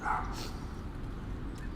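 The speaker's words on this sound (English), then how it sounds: "Old dog got a little upset." An old dog on a Manhattan street gives one short, fairly faint bark or yip at the start, followed by a quieter whimper over low city background noise.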